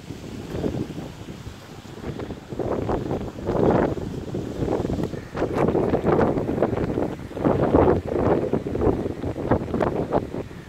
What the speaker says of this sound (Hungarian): szél van!